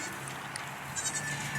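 Goats at a temporary pen on a farm bleat faintly in the background over a steady outdoor hiss, with a couple of soft high calls rising briefly.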